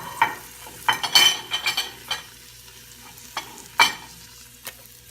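Garlic, onion, celery and cremini mushrooms cooking in a pan, sounding as light crackling sizzle with several sharp stirring scrapes and clatters, close and quiet, with no talking.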